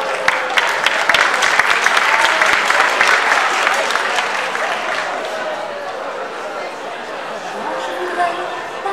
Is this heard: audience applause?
yes